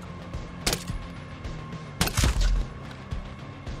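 Rapid gunfire and heavy impacts in Ghost Recon Breakpoint, with two loud bursts of shots and booming hits over a steady background hum, moderately close.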